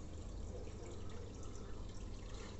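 An aquarium cascade filter pours water back into the tank in a steady, unbroken flow, a soft continuous wash of faint splashing with no pauses.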